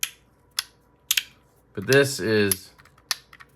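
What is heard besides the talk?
fidget toy balls clicking and clacking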